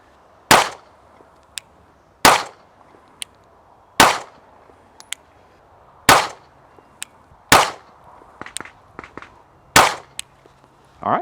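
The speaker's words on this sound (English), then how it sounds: "we're shooting 7 yards, 2 3-shot groups using Remington UMC 115 grain" A Sig Sauer P365 XMacro Comp pistol fires Remington UMC 115 grain rounds at a 7-yard target in sharp, loud single shots spaced about two seconds apart, with small clinks and rattles between them.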